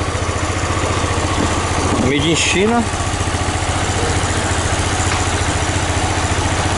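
A Yamaha Fazer 250 motorcycle with a fault that makes it stall idles with a steady low rhythmic putter, while someone talks briefly over it near the middle.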